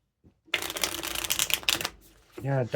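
Tarot cards shuffled by hand, a quick burst of riffling and flicking lasting over a second, close and fairly loud, followed by a short spoken word.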